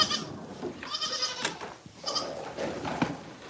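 Does in a large goat pen at feeding time, several bleats rising over a rustling farmyard background, moderately close and fairly quiet.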